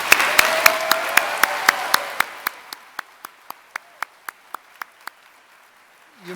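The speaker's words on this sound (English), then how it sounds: "Let's give them all a round of applause." Applause for law school graduates at a commencement ceremony: a dense burst of clapping that thins out into a few scattered, evenly spaced claps and then fades to near silence.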